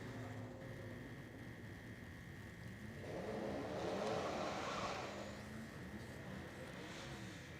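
A pulling truck's engine roars down the track at a Brown County truck pull event. The engine is heard from a distance as a steady drone that swells louder mid-clip as the power builds, then eases.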